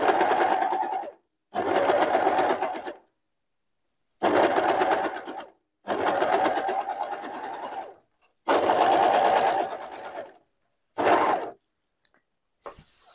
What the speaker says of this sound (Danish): Og så syr jeg simpelthen alle fire lag sammen her.